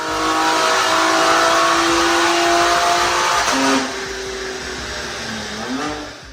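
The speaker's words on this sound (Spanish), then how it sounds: "llevará el coche a un banco de potencia, dyno, para medir su rendimiento después de las modificaciones en la admisión" A BMW M3 Competition with intake modifications revs hard on a dyno, its engine holding a loud, strained high-rpm whine for several seconds before easing off and dipping, then rising briefly again.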